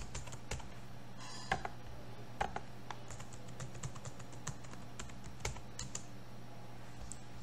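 Steady keystroke clicks from a computer keyboard during Linux command-line work, irregular taps spread over several seconds over a constant low hum, fairly quiet and with no voices.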